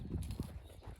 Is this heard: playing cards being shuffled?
no